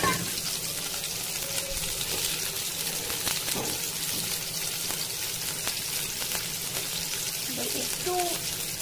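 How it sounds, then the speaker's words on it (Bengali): Potatoes frying in a pan for a mutton curry give a steady, moderately loud broadband sizzle throughout, with a few brief clinks and scrapes on top. "আলুগুলোকে ভেজে নেব।"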